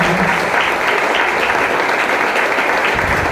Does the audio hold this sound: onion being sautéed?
no